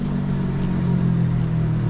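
A Mobygum Helium electric scooter rides in unrestricted mode 1 on a single motor, producing a steady, close motor hum with low road rumble and no pauses.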